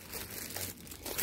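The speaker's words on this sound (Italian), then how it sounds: "sono dei semplici sacchetti, hanno la chiusura fatta così, quindi si aprono e si chiudono." Thin plastic bags with a press closure crinkle and rustle as they are handled close up, a brief soft crackling texture with no talk.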